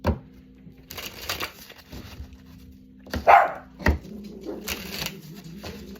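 A dog gives a few short, sharp barks amid quiet rustling and shuffling sounds, with pauses between them.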